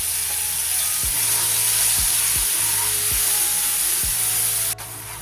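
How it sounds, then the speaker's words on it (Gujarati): Garlic chutney added to hot oil, already seasoned with cumin and asafoetida, for a drumstick sabji, giving a loud, steady sizzle throughout, punctuated by several rhythmic scraping stirs in the pan. "આપણે જે લસણવાળી ચટણી બનાવી છે તે ઉમેરીશું।"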